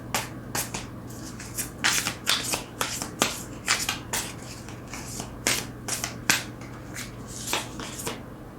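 Tarot cards shuffled by hand, a brisk, steady run of sharp riffling snaps and flutters close up, alone without speech.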